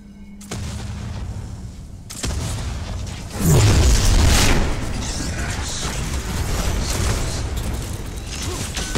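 A tower is destroyed in the video game Paragon, with a heavy booming explosion erupting a few seconds in and then a sustained roar of crumbling debris and battle effects.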